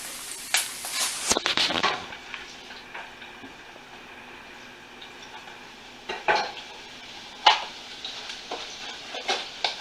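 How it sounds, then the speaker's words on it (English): Minute rice poured and stirred in a metal pan, with clinking utensil scrapes and rattling grains in irregular bursts, fairly close and moderately loud. "So we're going to add our minute rice."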